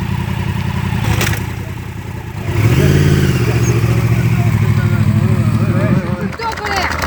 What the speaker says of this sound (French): mets un coup de gaz, mets un coup de gaz